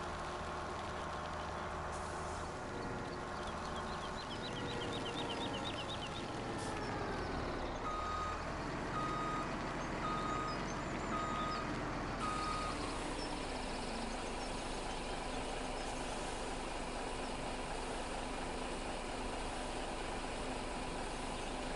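A truck rig in Farming Simulator 17 reverses, its repeated high backup beeps sounding over a rumbling idling engine, then an air-brake hiss and the engine carrying on steadily.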